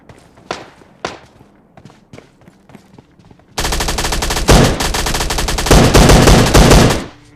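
Gunfire in the mobile battle game PUBG Mobile Lite: a few scattered shots and footstep-like taps, then a loud, dense burst of sustained automatic fire lasting several seconds before cutting off.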